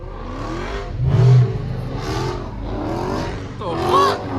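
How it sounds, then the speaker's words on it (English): A Dodge Scat Pack or Hellcat does a burnout on a street, its engine roaring steadily under loud, excited voices talking close by. "Burn out."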